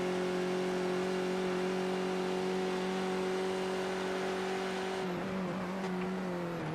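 Race car engine in a racing video game lifting off and braking into turn one, a steady, moderately quiet drone that holds a constant tone, then drops and wavers near the end as the throttle is released.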